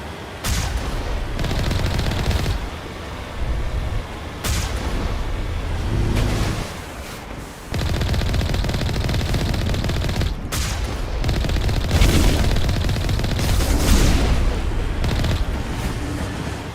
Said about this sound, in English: You would think the Geth never miss a single shot.